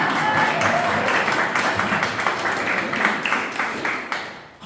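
Dense audience applause at a Woodstock event, loud and continuous, tapering off in the final second.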